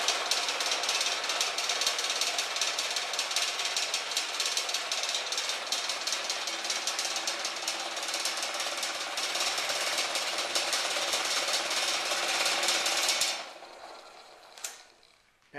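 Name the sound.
old buffing machine running, clamped to rattling work table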